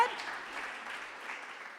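A church congregation claps together in a soft, distant patter that stays fairly even for a couple of seconds, with no one speaking over it.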